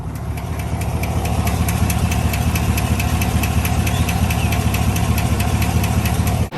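GM truck's 6.2-liter engine idling with a rapid, steady metallic ticking running throughout, loud and close with no voices.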